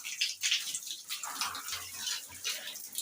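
Water splashes and trickles in quick, irregular bursts as feet are washed, a soft close-up sloshing and pouring that continues throughout.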